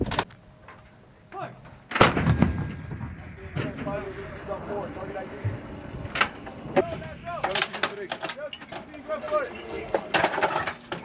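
Artillery guns fire during the FIREX 23 exercise, giving a heavy boom about two seconds in and then several more sharp reports and echoes. A voice calls out among birdsong and background voices.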